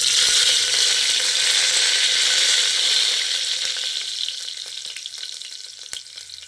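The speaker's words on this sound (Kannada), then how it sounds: "ಸಾಸಿವೆ ಸಿಡಿದ್ಮೇಲೆ ನೋಡಿ, ಈರುಳ್ಳಿ ಮತ್ತು ಕರಿಬೇವು ಸೊಪ್ಪು ಇದೆಯಲ್ಲ ಅದು ಹಾಕ್ತಾಯಿದ್ದೀನಿ." Onions and curry leaves hit hot oil just after mustard seeds splutter, producing a loud, steady sizzling hiss up close that gradually settles and softens, with a few small crackles and pops near the end.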